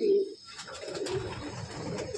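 Giribaz pigeons coo softly in close range, low murmuring calls over a faint rustling background with no speech.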